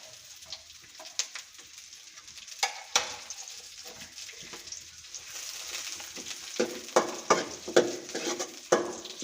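Green chillies, onion and curry leaves fry in a little oil for egg fried rice, a soft sizzle broken by repeated spatula scrapes and taps against the pan, getting busier toward the end.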